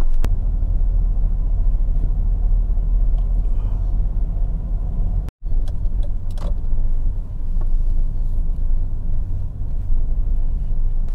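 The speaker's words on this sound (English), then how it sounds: "the truck is so full of tar" A truck loaded full of tar labours slowly up a hill, its engine a constant low rumble and drone, heard from nearby, broken by one brief cut-out in the middle.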